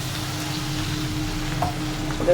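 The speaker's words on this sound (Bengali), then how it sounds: "আমি এখন দেখুন এর মধ্যে ঢেলে দিলাম" Potol and potato curry ingredients poured into a hot pan send up a steady, loud frying sizzle that holds evenly throughout, with a faint extra crackle near the end.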